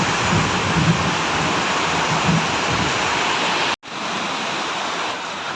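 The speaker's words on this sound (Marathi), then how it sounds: "फक्त पावसाचा आवाज ऐका" Heavy rain pours steadily in Sindhudurg during a stormy downpour, a dense continuous roar that briefly cuts out before resuming.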